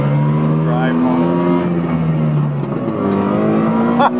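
A two-stroke Subaru 360 hot rod engine revs loud and close while driving, its buzzy tone climbing and falling through gear changes, with a brief dip before pulling again.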